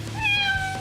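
A cat meows once, a clear rising-and-falling call lasting under a second, close and fairly loud against a low background hum.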